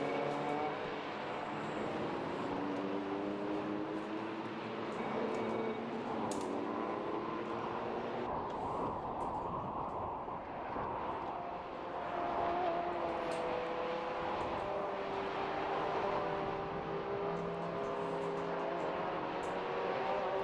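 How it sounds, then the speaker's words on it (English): Renault Clio Sport race cars circle the Brands Hatch Indy circuit, their engines droning and rising and falling as they pass at a distance, a continuous muted hum with no voices. "the cars just making their way round before we come to round 3 of the K-Tec Racing Clio Sport Championship"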